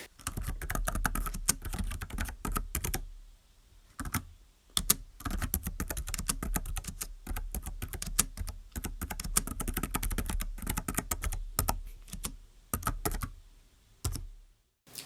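Typing on the keyboard of a 2007 HP Compaq 8710w mobile workstation laptop, steady close clicking keystrokes in bursts separated by short pauses, with no talk.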